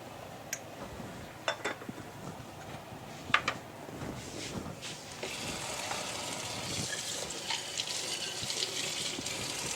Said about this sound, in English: You rinse them off.